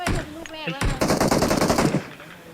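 Automatic gunfire in PUBG Mobile plays as a rapid, loud, close burst of shots lasting about a second, preceded by brief talk and fading into game noise.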